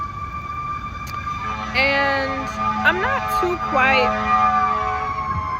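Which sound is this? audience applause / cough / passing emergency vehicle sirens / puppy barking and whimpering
passing emergency vehicle sirens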